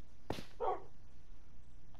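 Dogs bark in a video game with villagers and an XP farm: one sharp bark near the start, then a second tonal bark, with quiet game ambience after.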